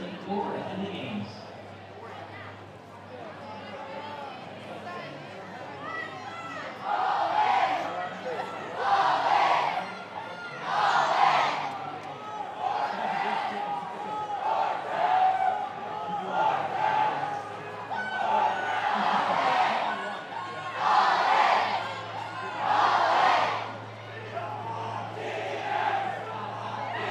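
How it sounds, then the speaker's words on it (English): Large cheering sections roar at a junior women's ultimate gold-medal final, the loud crowd swelling in repeated waves of yelling and cheering while a commentator talks over the din. "Quite the atmosphere as both teams have large cheering sections."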